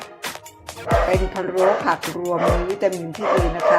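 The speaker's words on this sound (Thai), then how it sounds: "ขออภัยนะคะ น้องหมาเห่าอีกแล้วจ้ะค่ะทะเลาะกันค่ะ" Dogs bark and yip in short, loud bursts, with fighting yelps scattered across the stretch, under and between someone talking in a home kitchen while she cooks stewed mixed vegetables.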